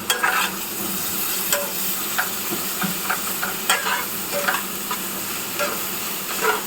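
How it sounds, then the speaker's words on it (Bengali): Food frying in a pan, a continuous close sizzle broken by frequent sharp scraping and tapping strokes of a utensil at an uneven rhythm, fairly loud with no speech. "এটাকে এখন ফ্রাই করছি"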